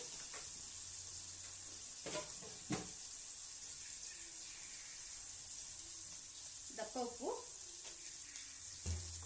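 Spices and coarse rock salt frying in a pan with a soft steady sizzle, broken by a few scraping stirs and clinks of a spoon against the metal, close and fairly quiet throughout.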